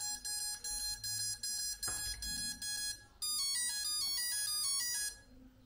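An ESC on a 3D-printed jet blower gives a calibration beep sequence as the battery is connected: a string of short regular electronic tones, then a rising run of quicker musical beeps, clear and close.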